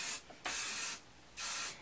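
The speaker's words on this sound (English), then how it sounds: "just kind of spray my hair with my favorite hairspray, which is the Kenra" Kenra 13-hold hairspray sprayed onto a short stacked bob in three close, loud hissing bursts, the middle one longest, with brief quiet gaps between them.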